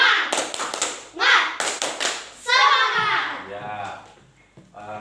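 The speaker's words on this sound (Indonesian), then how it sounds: "kita tepuk semangat dulu ya" Children in a classroom do the tepuk semangat clapping routine, with quick bursts of rhythmic hand claps and taps followed by young voices chanting together.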